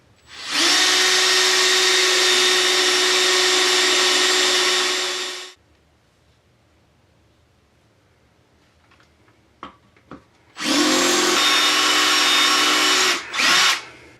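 A drill press bores into a broken bolt in two loud steady runs of several seconds each, separated by a quiet gap with a few light metallic taps.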